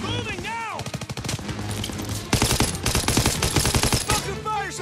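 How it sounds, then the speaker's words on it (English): Loud machine gun fire in the video game Call of Duty: WWII, fast rattling bursts mixed with shouted voices and battlefield commotion throughout. "You gotta suppress the machine gun!"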